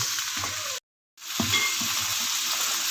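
Cumin sautéing in a pan for aloo mongray, a steady close sizzle with light stirring scrapes, cut by a brief moment of silence before the frying resumes.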